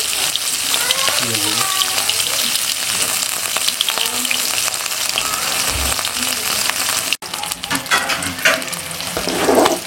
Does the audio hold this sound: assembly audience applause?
no